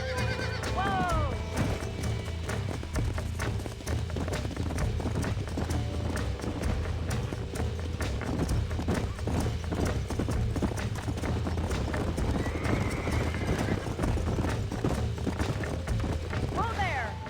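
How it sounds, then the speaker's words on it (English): In Red Dead Redemption, several horses neigh loudly and gallop with quick, continuous clip-clop hoofbeats across a ranch, under intermittent spoken dialogue between characters. "These are fine horses."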